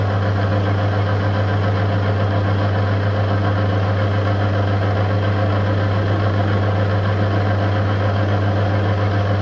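Motor-driven sharpening stone machine with a foot-operated safety brake running steadily, a loud constant hum and drone with a strong low tone and no break in level, no voices over it.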